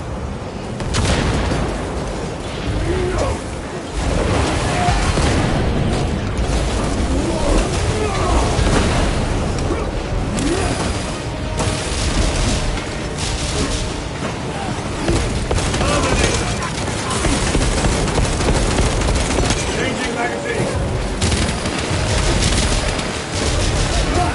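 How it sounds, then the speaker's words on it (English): Crack grenade blasts and heavy gunfire in a Warhammer video game battle, dense continuous booms and rattling shots filling the whole stretch, loud and chaotic with game voices mixed in. "Throw your crack grenade!"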